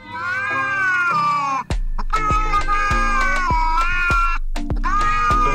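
Autotuned cat meows set into a pop song, pitched harmonic meows sliding over a steady beat and bass, loud and continuous with a brief dropout before the music resumes.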